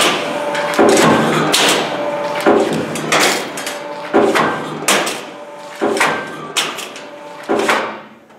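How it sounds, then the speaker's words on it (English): A sheet metal shear cuts small strips in a steady run, each cut a loud, close clank with a ringing metallic tail. The impacts repeat at roughly even intervals with no talk. "If you want to cut continuously, you will use the speed of the shear. I will demonstrate. cutting of small strips."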